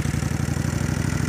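Kawasaki Vulcan 1500 motorcycle engine running on a dirt road, a close, loud, steady low pulsing throb with an even rhythm.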